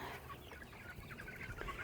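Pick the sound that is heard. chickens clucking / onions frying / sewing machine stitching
chickens clucking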